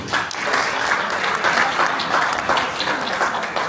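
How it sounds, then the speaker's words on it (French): Sustained applause from a crowd at a boxing weigh-in event, steady, dense clapping that fills the whole stretch with little variation. "On peut l'applaudir bien fort, s'il vous plaît."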